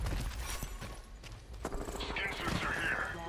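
A teammate's gunfire rattles through a round of Apex Legends, with rapid repeated shots and mechanical clatter running continuously under game sounds and chatter.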